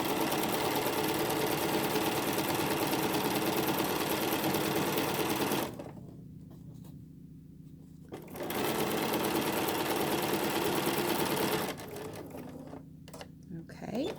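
A sewing machine stitches a 1/4 inch seam on a quilt tree block in two long, steady runs of close, loud whirring, separated by a short pause and ending with a brief stop.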